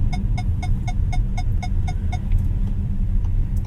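Blind spot monitoring warning in a 2025 Ford Territory Hybrid: a steady series of about nine short, evenly spaced electronic beeps over low road and engine rumble inside the cabin, with no talking.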